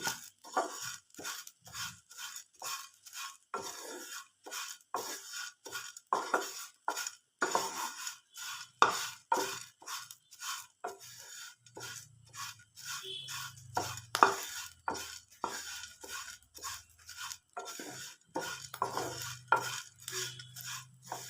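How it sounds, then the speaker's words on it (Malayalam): Flattened rice (aval) is stirred through ghee in a pan with repeated rhythmic scrapes and clinks of a spoon against the metal, steady and close, with a faint low hum joining partway through. "നല്ലതുപോലെ ഒന്ന് നെയ്യ് എല്ലായിടത്തും മിക്സ് ആകുന്ന രീതിയിൽ ചെയ്ത് കൊടുക്കാം."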